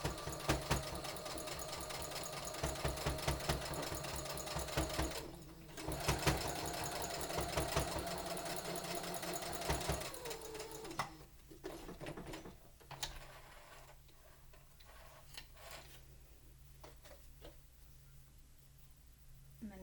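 A sewing machine stitches along the edge of fabric for a homemade face mask, its rapid mechanical whir loud and steady for about ten seconds, then pausing into quieter stops and starts with faint handling noises.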